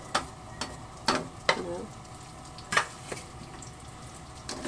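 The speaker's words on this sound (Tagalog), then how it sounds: "satay lang muna natin ang ating bawang" Garlic sautéing in a pan for buttered sweet and spicy squid, heard as a soft frying hiss broken by several sharp spatula clacks and scrapes at irregular intervals.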